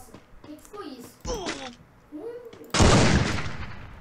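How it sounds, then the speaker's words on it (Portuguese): A voice speaks briefly before a single loud gunshot from a WM gun in a battle royale video game's night hunt mode bursts out, its sharp crack trailing into a noisy decay. "Consegui dar um tiro pelo menos com a WM"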